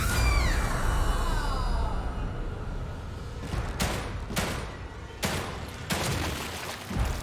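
Gunshots landing headshots in The Evil Within 2: several sharp, separate shots spaced about a second apart in a tense, quiet game scene, following a fading tonal sweep, with no talking.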